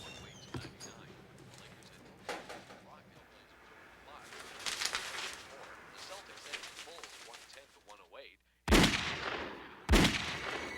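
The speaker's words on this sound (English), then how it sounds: "Saul heard 2 gunshots in the distance." Two sharp, loud gunshot blasts ring out about a second apart near the end, following a stretch of quieter rustling and movement.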